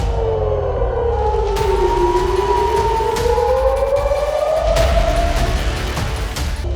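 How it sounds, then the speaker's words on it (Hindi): A loud wailing air raid siren, its pitch rising and falling in long slow sweeps, with rumbling background noise underneath. "ये सायरन की आवाजें युद्ध की घोषणा कर रही हैं।"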